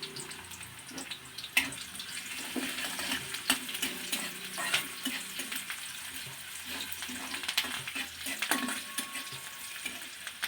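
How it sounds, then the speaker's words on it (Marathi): Chopped onions sautéing with a pinch of salt in oil with garlic: a soft continuous sizzle under repeated spatula scrapes and sharp clinks against the pan, close up, with no talking. "कांदा लवकर परतण्यासाठी थोडंसं मीठ टाकायचं"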